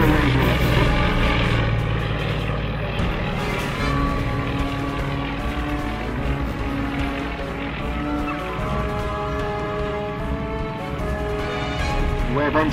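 An aeroplane powered by a Russian 400 horsepower 9-cylinder radial engine runs at an air show, giving a steady, loud, throbbing drone that continues throughout with slight shifts in pitch.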